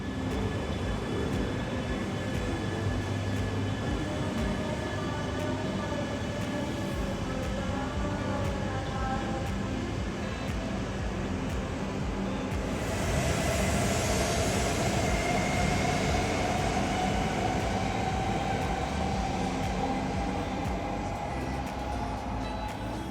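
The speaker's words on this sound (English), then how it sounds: "There's no overtaking train for these two today, the pair pulling away and back onto the main line." Two Shinkansen bullet trains pull away and rejoin the main line, a steady loud rumble and rolling hiss with a rising whine that builds toward the end, no voices.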